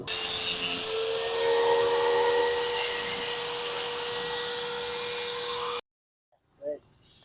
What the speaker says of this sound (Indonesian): akan saya ratakan dulu akan saya potong dengan gereda ya guys